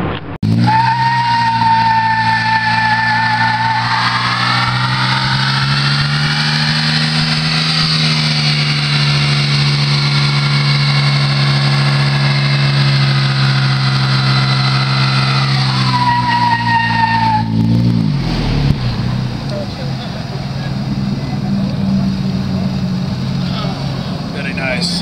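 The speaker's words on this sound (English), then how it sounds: "We're going to take my 2008 Xterra, try to see if we'll do a burnout." A 2008 Nissan Xterra doing a burnout, engine roaring at high revs with loud, sustained tire squeal rising and holding, then cutting off as the engine drops back to a rumble; close and loud.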